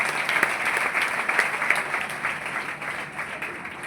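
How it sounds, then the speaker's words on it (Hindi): An audience at a Hindi motivational speech gives steady, dense applause, with a thick wash of many hands clapping at an even level throughout. "मैं चाहूंगी स्मार्ट ओलू के लिए भी एक बार जोरदार ताली होनी चाहिए।"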